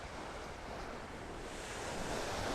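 Ocean surf on Vanderbilt Beach in North Naples, Florida, a soft, steady wash of breaking waves mixed with light wind, faint and distant, with no voices.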